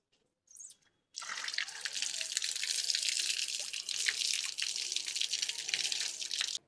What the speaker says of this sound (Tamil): இப்போ இந்த கேசிங்கு எல்லாத்தையுமே வந்து நம்ம வாஷ் பண்ணிக்கலாம்